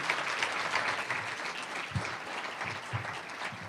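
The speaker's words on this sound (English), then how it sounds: "Let's give another round of applause to Michelle and Martin." An audience at the Spring 2022 Gold Axe award ceremony claps for the recipients, sustained dense applause throughout.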